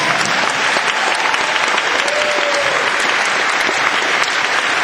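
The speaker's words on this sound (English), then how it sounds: "They really deserve a round of applause." Dense, steady applause from a crowd fills the whole moment, a continuous wash of clapping at even loudness.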